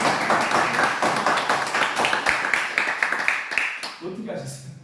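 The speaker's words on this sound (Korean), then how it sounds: "박수 한번 칩시다." Audience clapping during a Bible seminar lecture, a dense run of overlapping hand claps filling the room at steady loudness before tapering off near the end, with voices mixed in.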